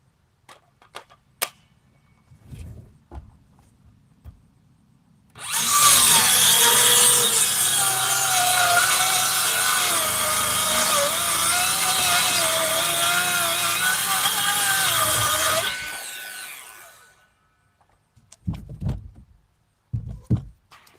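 A power saw runs for about ten seconds in one loud continuous cut through wood for chicken nesting boxes, its whine wavering slightly, with faint taps and knocks of handling wood before and after.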